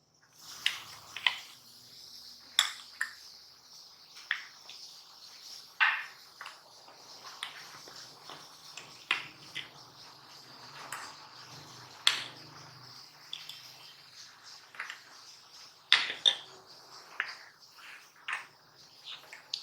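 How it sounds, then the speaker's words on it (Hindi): Ice cubes clink and tap into a glass of peach juice in a home kitchen, a string of sharp, light knocks and rattles spread unevenly over about twenty seconds, close and fairly quiet. "आइस डालेंगे।"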